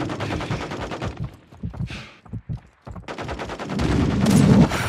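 Bursts of Call of Duty gunfire crack out in rapid automatic strings, loud and close, with a brief lull and a few single shots before heavy firing resumes and swells toward the end.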